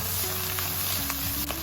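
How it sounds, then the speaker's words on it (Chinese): Doubanjiang chili bean paste stir-frying with golden fried tofu in a pan, a steady soft sizzle with faint scraping, continuous and close for under two seconds. "继续给它翻炒，炒出红油"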